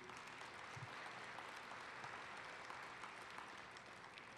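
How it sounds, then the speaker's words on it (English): Faint, distant, even applause from a banquet audience thanking the caterers at an athletics hall of fame induction ceremony, a steady wash of clapping with no clear voices. "Give them all a big round of applause, please."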